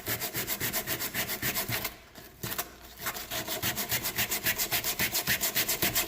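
Hand sanding of dried glue off a wooden surface before staining, a steady rhythmic back-and-forth rasp of sandpaper on wood, close and clear, pausing briefly in the middle before the strokes resume.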